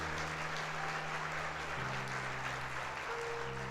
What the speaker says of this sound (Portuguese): dê um aplauso aí ao Senhor Jesus